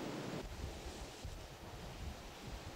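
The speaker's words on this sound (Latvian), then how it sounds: "ūdens skaņa tam plūstot no alas caur koraļiem atgādina elpošanu" Continuous roar of Caribbean sea surf echoing in a coastal cave, water flowing through coral with a breathing-like wash, gusty, windy noise over it and no voices.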